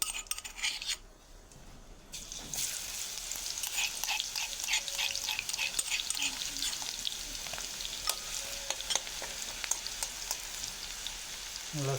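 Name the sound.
finely chopped garlic frying in oil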